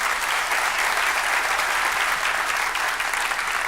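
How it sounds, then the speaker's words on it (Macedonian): A theatre audience applauds steadily at the premiere of a comedy show. Dense, even clapping holds at the same loudness from start to finish, with no voice over it. "Ве молам еден аплауз прво за нив."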